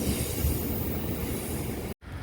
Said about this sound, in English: another Class 150/2 Sprinter on the Great Western Railway, departing Exeter Central at 3:25 PM